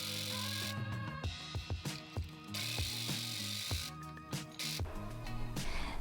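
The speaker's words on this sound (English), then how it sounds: "I'm going to put the knife to work to see what happens" A serger sewing machine with its knife blade fitted runs in short bursts, a close mechanical clatter of rapid rhythmic ticking with start-stop pauses, no speech.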